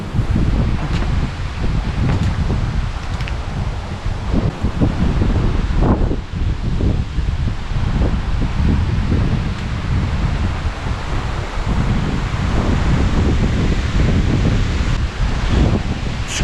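Strong gusting wind buffets the microphone at an off-grid home with rooftop solar panels in winter, a continuous loud low roar with rustling surges throughout and no talking.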